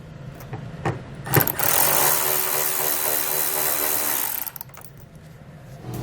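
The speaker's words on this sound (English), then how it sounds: "you are going to need to remove it, and we'll get that out using a 7mm socket." A 7mm socket tool works a fastener loose on a 2020 Buick Enclave. A few sharp clicks lead into a sustained rattling burst lasting about three seconds, then more scattered clicks.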